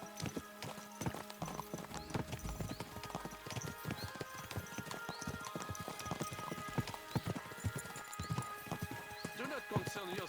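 A horse in the video game Kingdom Come II clip-clops along at a steady walking rhythm, with a brief whinny and character dialogue spoken over the hoofbeats amid background game sound.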